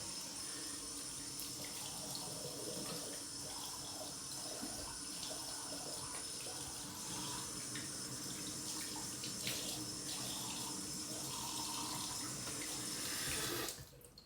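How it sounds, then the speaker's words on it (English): A sink tap runs steadily while someone rinses their face, a continuous close hiss of flowing water with faint splashing, which stops abruptly near the end. There is no speech. "I shall now rinse my face"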